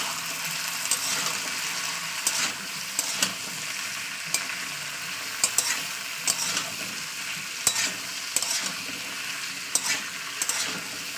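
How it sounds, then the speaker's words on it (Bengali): Potatoes and long beans fry in hot oil in a pan with a constant sizzle, while a spatula stirs and scrapes them in repeated sharp clicks and knocks. "দিয়ে তেলের উপরে একটু ভাজা করে দিতে হবে।"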